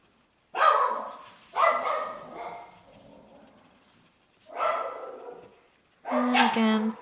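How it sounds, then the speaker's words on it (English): Dogs bark in several short, sharp bursts spaced apart through a quiet indoor room, fairly close and clear, with no talking over them. "my dogs have decided to join me on my videos"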